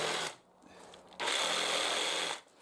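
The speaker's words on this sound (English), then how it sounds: "And then just clean those out with the jigsaw." Jigsaw cleaning out notches in timber rafters for a structural steel framed roof: two bursts of steady, close buzzing cutting noise, a short one then a longer run of about a second, separated by a brief lull.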